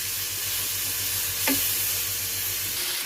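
Loud, steady sizzling of masala frying with a little water in a hot pan for a mixed vegetable curry, with a brief stirring scrape midway and no talking.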